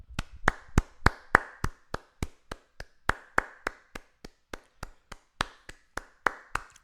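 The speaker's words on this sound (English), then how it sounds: "I'm gonna give you a clap." A single person claps at a steady, brisk pace, around twenty sharp claps close by, with no talking.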